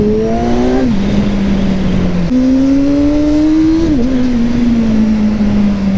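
A powerful motorcycle on a solo ride drones steadily at close range, its engine note climbing and dropping through gear changes over continuous road and wind noise.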